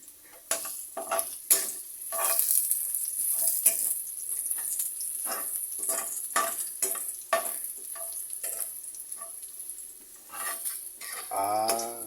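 Garlic frying in hot oil until golden brown, a steady bright sizzle broken by repeated scraping stirs of a utensil against the pan, with a brief tonal clatter near the end.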